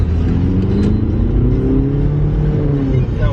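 A diesel car accelerates at full throttle in first gear, its loud, close engine note droning and climbing steadily without a break.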